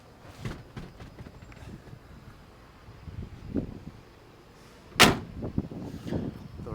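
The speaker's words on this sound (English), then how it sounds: "Doors open and close as they should." Doors of a 1966 Chevrolet Nova SS being worked, with soft latch clicks and creaks followed by one loud, sharp slam near the middle of the sequence and lighter thuds after, all close and without speech.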